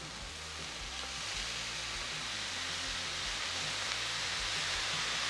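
Soy sauce hitting fried rice on a hot Blackstone griddle, giving a steady, broad hiss of sizzling that holds and swells slightly throughout, close and with no talking.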